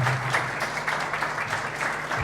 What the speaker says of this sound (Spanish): El aplauso para él.